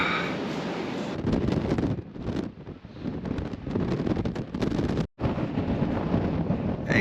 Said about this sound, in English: I don't know if you can hear me over this wind